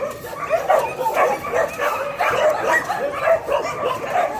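Many dogs bark and yip together in a kennel building at an animal shelter in Bečej, Serbia, a continuous overlapping chorus of close and distant barks and whimpers.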